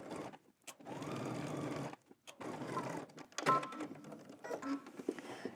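Sewing machine back stitching while attaching a pocket flap, quiet motor bursts in short runs with gaps, a few mechanical clicks between.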